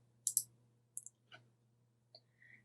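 Computer mouse clicks during a website setup walkthrough, a few sharp, faint clicks in quick pairs with soft handling noise against near silence.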